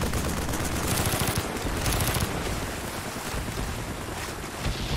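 Dense, rapid gunfire rattles continuously in Call of Duty Black Ops, a loud, close, unbroken clatter of automatic bursts with a rushing, water-like wash beneath it.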